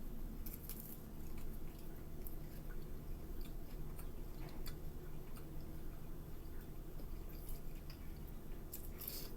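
Close chewing and biting on caviar spread over a crisp rusk or toast, with soft crunches and wet squishy bites repeating steadily, no talking.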